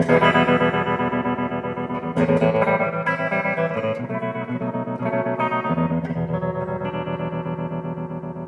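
An electric guitar played through a tremolo effects pedal in a vintage surf-style tone, sustained chords pulsing with a fast, even wavering throb, loud and alone with no voices.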